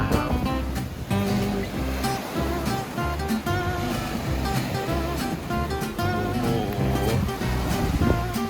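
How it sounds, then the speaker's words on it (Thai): Morning sea waves wash continuously against an island shore, a steady roar of surf with wind noise and faint tonal sounds mixed in. "อยากให้ฟังเสียงทะเลนะครับ ตอนเช้า"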